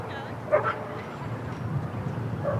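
Dogs at a dog park beside the Silver Lake Reservoir in Los Angeles yip and bark a few times, faint and distant, under a steady outdoor background hum.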